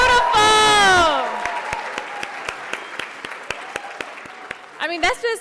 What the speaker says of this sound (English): Let's give Ms. Geraldine Steele another round of applause.